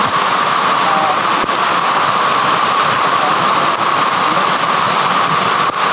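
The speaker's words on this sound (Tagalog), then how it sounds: "lakas ng ulan mga tolo" Loud, constant hiss of heavy rain pouring down, a dense wash of noise without pauses or voices.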